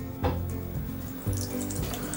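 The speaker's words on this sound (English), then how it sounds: "So as you can see, I have opened the tap." Tap water runs steadily from a faucet onto a Samsung Galaxy S5 phone held beneath it, a continuous close splashing rush with no talking.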